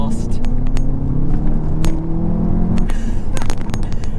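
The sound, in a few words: Mk3 Audi TT Coupe accelerating, wheels spinning up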